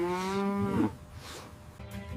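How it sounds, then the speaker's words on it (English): A cow moos once, a clear, close, drawn-out low call lasting under a second, followed by quieter farmyard ambience. "It's a cow."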